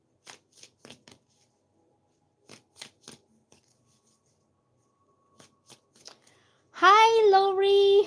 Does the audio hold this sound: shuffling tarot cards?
yes